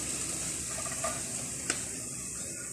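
Chopped onions sizzle in oil in a non-stick pan with a faint, steady hiss, broken by a couple of light clicks from stirring.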